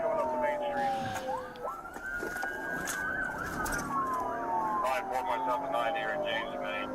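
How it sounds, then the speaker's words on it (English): Two police sirens wail in sweeping rising and falling tones, overlapping and fairly near, with people talking over them. "I hear 2 sirens"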